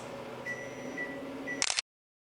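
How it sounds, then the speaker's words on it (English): Three short, steady electronic beeps spaced about half a second apart over low background hum, followed by a brief clattering burst before silence. "Hear beeping, I apologize."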